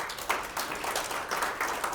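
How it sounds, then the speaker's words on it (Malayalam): An audience at a stage show gives a short burst of applause, with dense, steady clapping lasting about two seconds. "Dear friends, ഒരു ക്ലാപ്പ് കൊടുക്കൂ."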